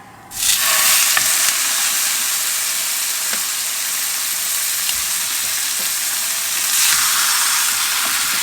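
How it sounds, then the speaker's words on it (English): Steady, loud sizzling and crackling of meat frying in fat in a hot pan, continuous throughout with occasional pops and no talking. "we're going to let that sizzle for a good few minutes on each side"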